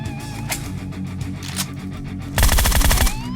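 Rapid automatic gunfire from PUBG Mobile, a steady loud burst of shots building into a denser, heavier volley near the end, with no talking.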